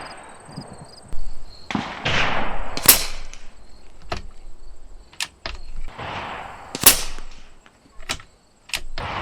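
Umarex Gauntlet 2 .25 caliber air rifle firing slugs at a target 75 yards away, with several sharp cracks, some with a distant thwack of impact, spaced a second or more apart, loud and close.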